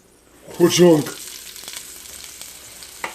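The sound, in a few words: onions frying in hot oil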